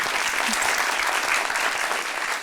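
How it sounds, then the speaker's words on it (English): Studio audience applauding steadily for a visiting delegation on a television talk show, a dense, loud wash of clapping sustained throughout without pause. "Big hand of applause for the delegation."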